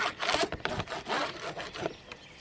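Scraping dropped honey off wooden beehive bottom boards, a series of close, rasping strokes in an irregular rhythm, each short and gritty, heard alone without talk.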